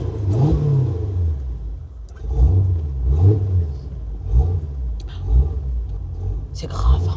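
A 1964 General Motors Corvette, a non-diesel car, rumbles at close range with its engine revving in repeated surges, while people talk over it throughout.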